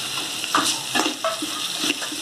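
Chopped onion and tomato sizzle steadily in a pan while a utensil stirs and scrapes, giving a few soft clinks over the continuous hiss.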